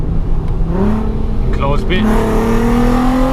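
A VW Golf R32 engine revs loudly and steadily, with a rising exhaust drone on a cruise, while someone talks over it close to the microphone.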